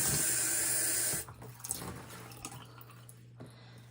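A glass jar is rinsed under a running tap, a loud steady water rush that stops abruptly after about a second, followed by faint drips, clinks and handling sounds in a quiet sink.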